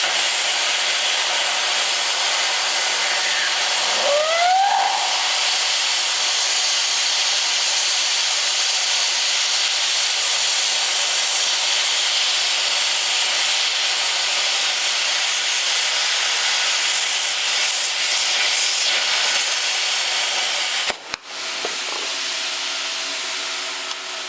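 A cheap plasma cutter on 220 volts slices through metal with a loud, steady broadband hiss that runs almost unbroken for about twenty seconds, then cuts out abruptly, leaving a faint hum.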